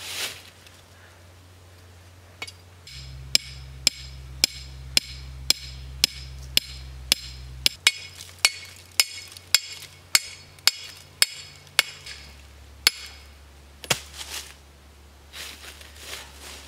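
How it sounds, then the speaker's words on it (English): Sharp metallic hammer strikes drive rebar stakes into the ground, ringing out in a steady series of about twenty blows with short pauses, close and loud over a low background hum. "I'll just pound these into the ground."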